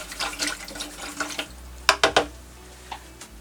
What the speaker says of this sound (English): so I'm just going to wash my brush.